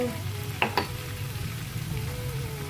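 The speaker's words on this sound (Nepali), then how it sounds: "चिकन एकदम राम्रोसँग पाकिसकेपछि म चाहिँ अलिकति बेसार हाल्दैछु" Chicken fries in a pan as turmeric goes in: a steady sizzle with two quick sharp clinks of a utensil against the pan near the start.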